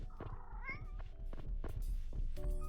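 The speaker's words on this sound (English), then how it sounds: "Here we've got two cats." A cat in a video game gives a rising, wavering meow, followed by soft thumps and a few short mewing calls, close and clear.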